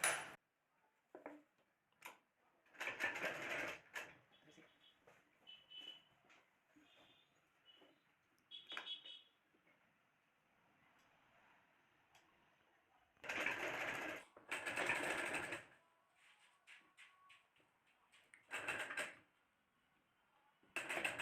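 A sewing machine stitches pajama fabric in several short bursts of whirring, separated by quiet pauses and faint handling clicks, close and clear.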